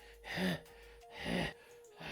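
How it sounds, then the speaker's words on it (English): A man panting heavily, two long ragged breaths close up, each swelling and fading, with a third starting at the end and no talk over them. "he's kind of panting"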